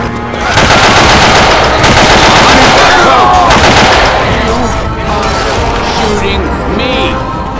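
Rapid automatic gunfire blazes without a break during a frantic co-op shooter fight against a tank, a dense, loud, continuous rattle under shouting voices and chaotic crashes.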